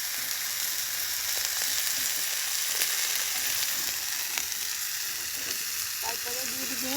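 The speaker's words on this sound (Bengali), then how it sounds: "এখন একটু তেল দিয়ে নিই" Oil sizzles steadily in a cooking pan, a continuous close hiss with faint occasional clicks and a brief scrape near the end.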